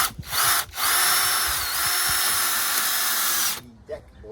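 A cordless power drill runs a pilot hole into a deck board for an outdoor cat patio, a close, steady high whine lasting about three seconds after a couple of brief starts, then cutting off.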